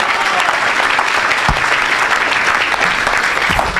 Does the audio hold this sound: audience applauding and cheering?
yes